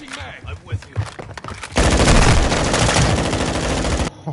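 Sustained automatic gunfire from the Modern Warfare 2 video game erupts loudly after a stretch of quieter game sounds and chatter, a dense rapid burst that runs for a couple of seconds before cutting off.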